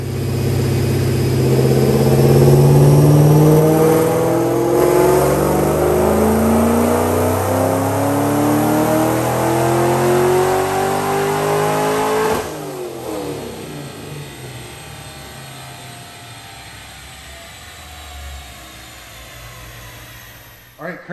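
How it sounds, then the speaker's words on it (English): A 2010 Mustang GT fitted with a Paxton supercharger makes a dyno pull, the engine climbing in pitch as it revs hard, then backing off and dropping away into lower rumbling and a fading wind-down. "So check out this dyno pull."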